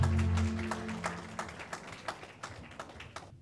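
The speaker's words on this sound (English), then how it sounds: "Once again, a big round of applause for Josh and Mickey." Guests at an engagement party for Josh and Mickey clap, a faint tone fading as the applause thins into scattered, distinct claps that grow sparser toward the end.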